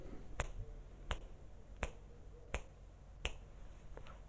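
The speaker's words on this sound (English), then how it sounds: "A better snap than that." Finger snaps repeat at a steady pace of roughly one every 0.7 seconds, five crisp clicks against a noisy background hum, fairly faint.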